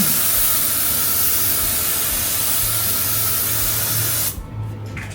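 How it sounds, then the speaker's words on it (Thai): A steady, loud hiss of aerosol spray runs for about four seconds, then cuts off abruptly into quieter background. "นี่คือสเปรย์นะคะ ก็จะพ่น"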